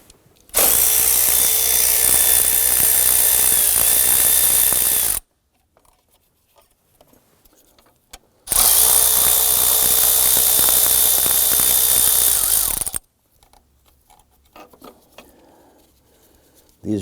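Two long bursts of a power ratchet undo 8mm bolts on the EGR unit of a 2015-2020 Ford F-150 2.7L V6, each a loud whirring buzz of about four seconds separated by quiet shop pauses.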